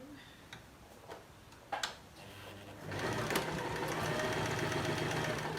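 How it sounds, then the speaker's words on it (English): A few light clicks and taps, then a sewing machine starts up stitching a fabric hair scrunchie and runs steadily with a fast rhythmic whir and clatter. "So I'm just going to do that on the sewing machine"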